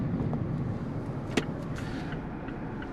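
Steady engine and road rumble from a 2023 Mazda Miata sports car with a manual clutch, heard from inside the cabin while driving, with a brief sharp knock near the middle and no talk.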